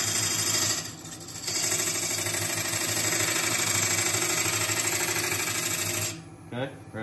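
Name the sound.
skew chisel cutting a bowl blank on a lathe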